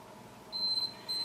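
Two electronic workout interval timer beeps, the first sustained and the second starting just before the end, sounding clearly over a quiet room background during a low-impact standing abs routine.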